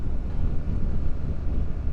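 Wind buffeting a motorcycle rider's helmet microphone aboard a BMW R 1300 GS, a steady low rumbling roar with gusty fluctuations throughout, no speech.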